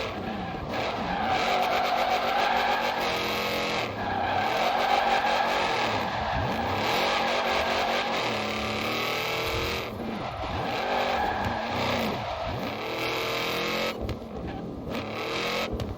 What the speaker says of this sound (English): So I think this will be a pretty nice drift car.